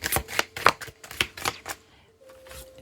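Tarot cards are shuffled in quick riffling bursts, several sharp flutters in a row, up close and otherwise quiet.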